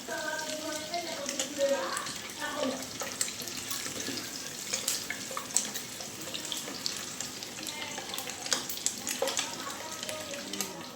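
Eggs frying in hot oil for an egg korma, a close sizzle and crackle mixed with stirring and clinking of a utensil, with some faint background voices.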